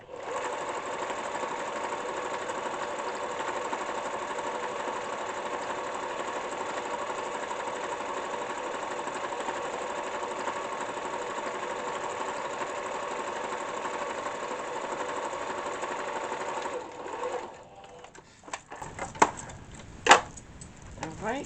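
A sewing machine stitches a fabric tote bag in a steady, continuous whir for about seventeen seconds, close and even, then stops with a few clicks and handling knocks.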